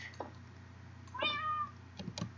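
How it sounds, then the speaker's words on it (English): Cats meow in the Minecraft video game. There are several short, quiet meows, with one longer, clearer meow in the middle, followed by a couple of brief mews, all without talking. "Oh, kitties!"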